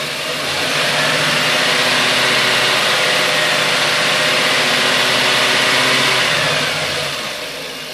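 An 8.1 Vortec engine in a 2005 Winnebago on a Workhorse chassis with a new water pump, revved to about 2,000 RPM. A loud, close, steady roar climbs, holds for several seconds, then settles back down.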